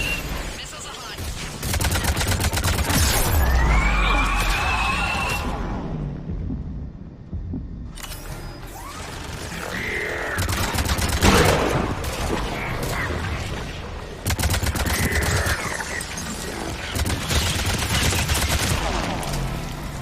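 Dense Mass Effect 3 combat, with missile launches and rapid gunfire crackling in sustained bursts and booming impacts, briefly dropping out before resuming at full loudness.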